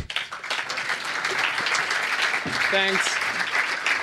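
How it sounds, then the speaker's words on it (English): Audience applause after a startup pitch at a venture event, a dense steady wash of clapping that holds for several seconds while a voice speaks briefly over it. "You can start clapping."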